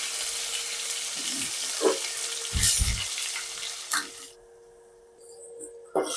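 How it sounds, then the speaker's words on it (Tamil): Paneer frying in hot oil gives a steady sizzle with a few clunks and stirring knocks, quieting partway through before a final clatter. "இந்த பன்னீரை வந்து பொரிச்சு எடுத்துக்கலாம்."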